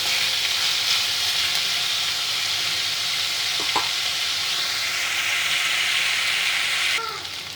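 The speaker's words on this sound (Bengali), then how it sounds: "আগে আলুগুলোকে ভালো করে একটু ভেজে নেবো" Potatoes fry in a pan with a loud, dense, continuous sizzle and hiss, close up, joined by occasional scraping and stirring clatter, then a brief knock near the end.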